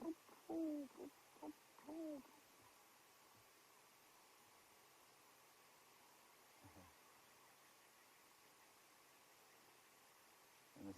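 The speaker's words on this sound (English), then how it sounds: "you can hear the doves have suddenly come to life" Doves give soft, low cooing calls at sunrise in Djuma, Kruger National Park, South Africa, a few short phrases early on, then steady faint background hiss with a distant call later.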